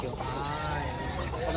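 Chickens at a market in Bocaue, Bulacan cluck and squawk in a busy mix with other fowl, moderately near, while people talk over the steady background noise.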